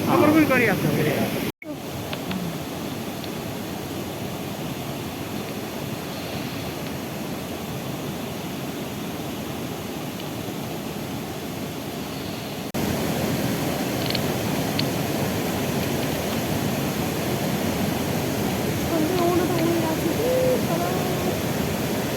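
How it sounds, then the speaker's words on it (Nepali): Steady rain falls at night outdoors during a bat-watching event in Nepal, a dense continuous hiss filling the scene, growing slightly heavier partway through after a brief sharp knock near the start. "अहिले यो पानी परिरहेको छ."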